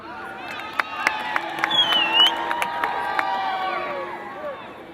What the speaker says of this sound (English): Wow, this is a great crowd out here this afternoon.